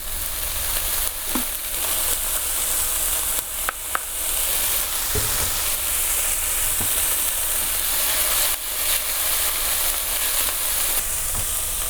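Oil sizzles and hisses steadily in a hot pan as cabbage cooks, a loud, even frying noise that never lets up, broken only by a few faint clicks and stirring knocks, with no talking.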